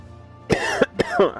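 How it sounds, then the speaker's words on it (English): Two quick, rough throat-clearing rasps, close and loud, one after the other with a brief gap. "Clear my throat here."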